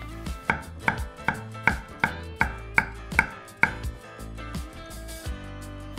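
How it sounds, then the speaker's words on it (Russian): Close, steady knife cuts through a zucchini onto a board, crisp evenly spaced knocks that slow and soften toward the end, no voices. "Кабачок нарезаем точно так же, как и дайкон."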